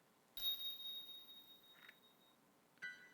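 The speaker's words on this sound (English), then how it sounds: "I hear the sound of a bell again." A bell rings inside the Never7 visual novel, a soft chime with a thin ringing tone, then a fainter second ring near the end, with a quiet room hiss underneath.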